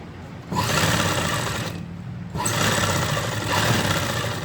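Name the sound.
sewing machine stitching a kurti neckline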